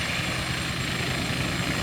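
Westland Wasp helicopter in flight in Microsoft Flight Simulator 2020, a steady, loud rotor thump and turbine whine running continuously with no breaks or voices.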